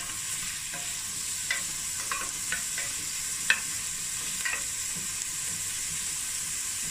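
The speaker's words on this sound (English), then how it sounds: "we're gonna fry the onions until it's brown" Onions fry with crushed chilies in a pot, giving a steady, bright sizzle throughout, while a spoon scrapes and taps the pan now and then as they are stirred toward brown.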